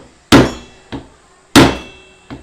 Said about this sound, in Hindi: हथौड़े से चोट मारना और ऐसा काउंटर आपका मजबूत हो